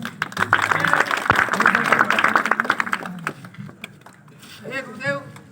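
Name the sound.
loud applause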